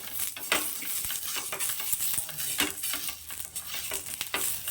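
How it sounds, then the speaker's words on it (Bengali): Oil rubbed with a cut potato across a hot tawa griddle while making patishapta: sizzling and frying, with scraping strokes and light utensil clinks that come in irregular bursts, close and alone. "আলুতে একটু তেলটা লাগিয়ে নিয়ে আমি তাওয়ার চারি সাইড দিয়ে লাগিয়ে দেবো"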